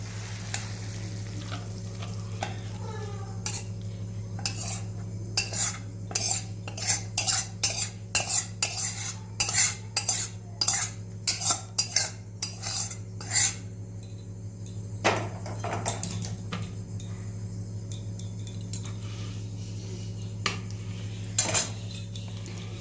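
Cutlery scrapes and clinks repeatedly as egg curry (dim kosha) is served from the pan onto a plate, in a quick run of sharp metallic taps with pauses, over a low steady kitchen hum.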